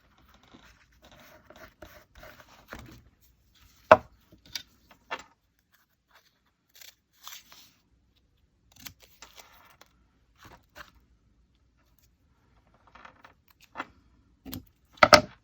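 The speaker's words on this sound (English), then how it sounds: "Today I got to cut fabric" Scissors cutting fabric for quilting: sparse, quiet snips and scratchy rustles spread over a long stretch with long silent gaps, a few sharper clicks standing out, no talking.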